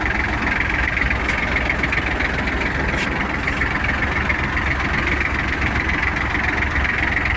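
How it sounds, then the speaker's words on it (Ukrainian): A Kubota GL32 tractor engine runs loud and close with a steady, heavy rumble throughout as the tractor drives off. No one speaks. "Просто вмикаємо передачу, трактор поїхав."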